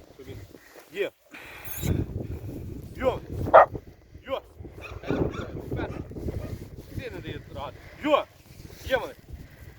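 A dog barks a few times amid outdoor wind buffeting and people talking nearby, around draft horses, the barks sharp and scattered.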